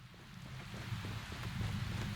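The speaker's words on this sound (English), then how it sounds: "Okay, it is hailing." Hail falls steadily in the video game Prologue: Go Wayback!, a dense, even patter of small impacts with a soft windy rush, continuous and moderately loud for the whole stretch with no voices.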